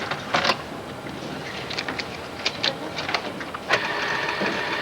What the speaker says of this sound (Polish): Karty hotelowej też nie trzeba wypisywać ręcznie. Drukarka zrobi to ładniej